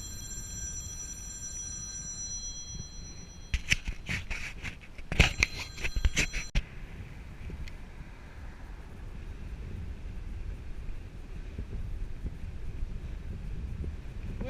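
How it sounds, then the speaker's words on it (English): Steady wind blows across the North Wales coast as a low, rushing broadband roar that fills the whole stretch, with a brief cluster of thin ringing tones partway through. "Wind's picked up a bit."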